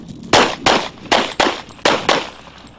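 Six sharp pistol shots ring out at an IDPA match as the shooter moves, coming in a quick uneven cadence at close range with nothing else heard between them.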